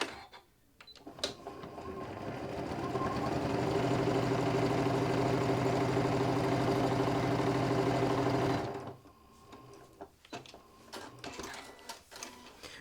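A Janome sewing machine stitches fabric in one long continuous run of fast, steady mechanical whirring, close and loud, ramping up at the start and stopping abruptly, with quiet handling clicks before and after.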